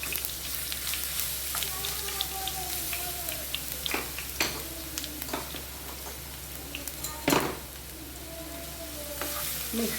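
Curry leaves, crushed cumin and crushed garlic sizzle steadily in hot oil for a Kathiyawadi dahi thikhari, a continuous close crackle broken by sharp spatters and a few stirring knocks.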